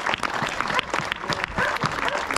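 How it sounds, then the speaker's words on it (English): Parkrun crowd applauding and cheering on a Saturday morning in Winchester, a steady burst of clapping with some voices mixed in, fairly close and loud throughout. "So it's been a big cheer."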